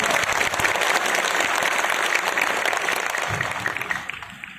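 An audience at a ceremony claps loudly in dense, sustained applause that tapers off toward the end.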